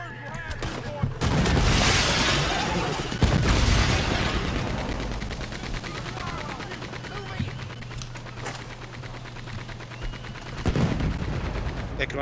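Dense bursts of gunfire from the Red Dead Redemption 2 video game, loud and sustained with rapid volleys and heavy booms, while players talk over the shooting.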